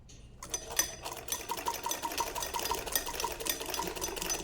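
A sewing machine stitching a kameez, its needle running in a fast, steady rapid clatter close up after a brief quiet start, with no talking.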